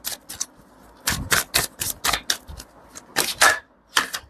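Tarot cards are shuffled close up in quick, crisp riffling bursts, about a dozen short flurries with brief pauses between them and no talking.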